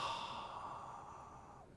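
One long, deep breath is exhaled close to the microphone, soft and fading, just before a podcast recording begins.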